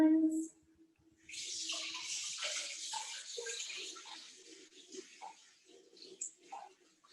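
Fresh blueberries being rinsed under a running kitchen tap, a steady splashing water stream that starts after a brief pause and flows continuously, with small shifts as the berries are moved in the water.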